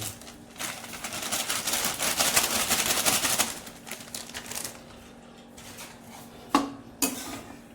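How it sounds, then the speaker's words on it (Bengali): Semolina being dry-fried in a pan, a spatula scraping and clattering against metal in a busy stretch of stirring, then quieter scrapes and two sharp knocks near the end. "এবার বন্ধুরা, এই সুজিটাকে ভেজে নেবে, যেরকম চালের গুঁড়োটাকে ভেজে নিয়েছো সুজিটাকেও ভেজে নেবে।"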